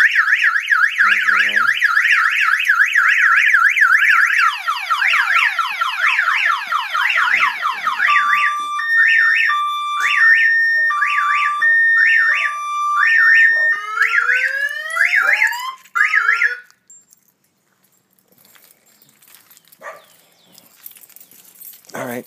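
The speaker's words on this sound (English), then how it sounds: "Got the little burglar alarm." A loud electronic burglar alarm on a Suzuki Burgman 650 Executive scooter cycles through warbling, whooping and pulsing siren tones for about sixteen seconds, then cuts off abruptly, leaving quiet background.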